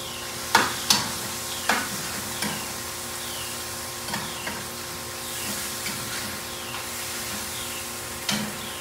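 Half an onion fries in a pan with a faint steady sizzle, broken by a few sharp clacks of a utensil stirring and scraping at irregular intervals.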